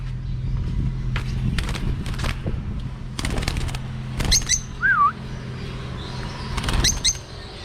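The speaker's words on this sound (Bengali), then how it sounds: "এটা হচ্ছে আমার টিয়া পাখি" A pet parakeet gives short chirps and a clear, rising-and-falling whistle, close by, amid scattered rustling and handling noises with a low background hum.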